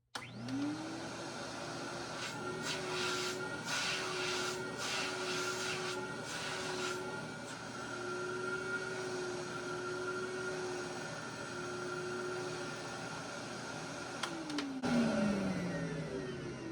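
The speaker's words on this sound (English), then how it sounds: "A successful run demo with the Eureka Crown Princess Model 812." A 1969 Eureka Crown Princess Model 812 vacuum cleaner runs with a steady motor whine and airy rush, close and loud, with pitch shifts as suction changes and the motor winding down at the end.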